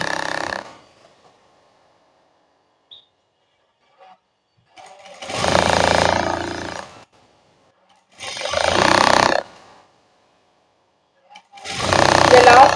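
Sewing machine stitching a blouse runs in three bursts of a few seconds each, separated by quiet pauses, loud and close, with a short tail of stitching at the very start.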